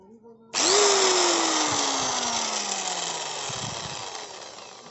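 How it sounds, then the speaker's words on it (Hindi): A Bosch mixer grinder switches on after cleaning and runs loud and close, with a sharp start-up whine that settles into a steady motor drone. "यहाँ पे हमारा ग्राइंडर ऑन हो गया"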